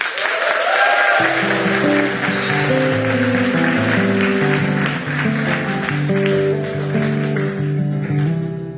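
Audience applause fills a Baptist church hall, a dense steady patter heard alone at first and then continuing under loud music that starts a second in.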